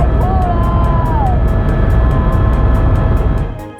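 A helicopter flying over the ridges and glaciers of New Zealand's Southern Alps, heard as a loud, constant cabin engine drone with a fast, regular rotor pulse beating through it from start to finish.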